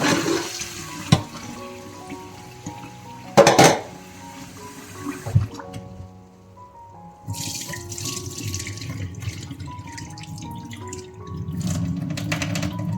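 Rice being washed in water in a pot, with sloshing, pouring and splashing water, bursts of swirling liquid and clinks against the vessel, close and moderately loud.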